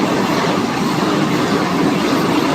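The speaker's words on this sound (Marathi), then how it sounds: "वंदे भारत ट्रेन सोलापूरहून येणारी वंदे भारत ट्रेन" A Vande Bharat express train from Solapur rushes past close by, a loud continuous roar of wheels and rushing air with no pauses.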